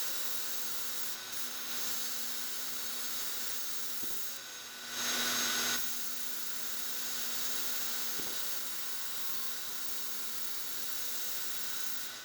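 Sharpening a steel drywall trowel edge gives a steady hiss with a brief louder burst of grinding midway, close and alone with no voices.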